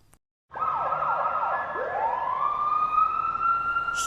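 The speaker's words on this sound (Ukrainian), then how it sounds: "Це пожежна машина мчить на виклик." A wailing fire engine siren starts abruptly after a brief silence, its pitch sweeping up and down in quick cycles before settling into a long rising wail.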